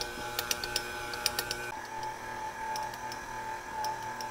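A stand mixer kneads naan bread dough with a steady mechanical whir and hum, close and moderately loud, with a few small clicks and knocks in the first two seconds.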